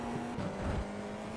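A Formula 4 race car engine in iRacing at Magny-Cours, held at a steady droning pitch as the throttle comes back on, loud and close throughout with no talk.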